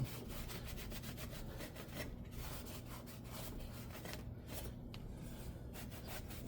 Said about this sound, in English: cleaning it up both sides, just kind of rough scrubbing it